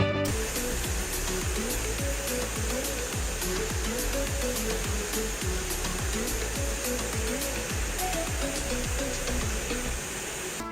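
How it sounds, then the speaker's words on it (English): VMECA Magic Reaper vacuum suction machine picking up and placing packaged food, a steady loud hiss of suction air with a rapid, regular mechanical thumping from repeated pick cycles throughout. "the VMECA Magic Reaper, which works like a vacuum that suctions the food and puts it where it's supposed to go"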